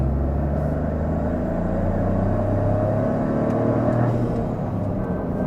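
Toyota GR Corolla fitted with a short shifter, heard from inside the cabin as a steady, loud engine drone with low road rumble while it accelerates, and only slight dips where gears change.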